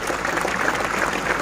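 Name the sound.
audience applause for a child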